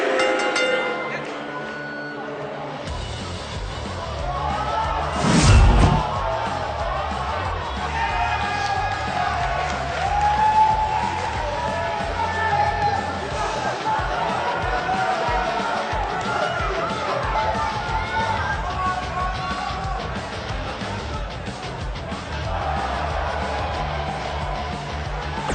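Sold-out arena crowd cheering at a wrestling show in WWE 2K19: steady loud roar and chatter of a large audience throughout, with whoops and a sharp swell near the start, mixed with arena sounds.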